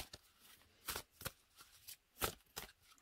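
A deck of animal totem oracle cards is shuffled close by, with a run of quick papery riffles and snaps in an uneven rhythm, fairly faint and with no talking.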